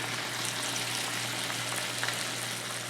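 Hamburger patties fry in a hot pan, giving a steady, close, even sizzle with faint crackles throughout and no talking.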